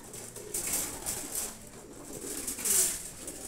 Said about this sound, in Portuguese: Tem uns 40 pombos pra fora aí.